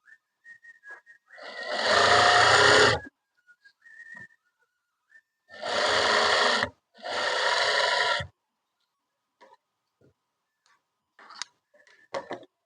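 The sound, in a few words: sewing machine stitching a kurti collar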